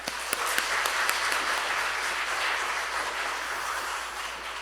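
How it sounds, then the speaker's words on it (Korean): A church congregation at an evening New Year revival service applauds to welcome the pastor, a dense, even wash of clapping from a large room that holds steady throughout, with a few sharper claps at the start. "우리 목사님 나오실 때 크게 박수로 환영하겠습니다."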